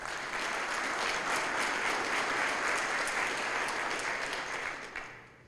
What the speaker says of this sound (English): I want another round of applause for all the people here that are supporting the pensioners